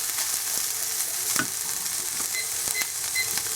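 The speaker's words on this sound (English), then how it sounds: "So we're going to saute this for another minute." Onions sauté with freshly grated ginger and garlic in a pan, making a steady, close sizzle with a few light utensil clicks and scrapes mixed in.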